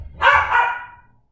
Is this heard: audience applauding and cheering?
no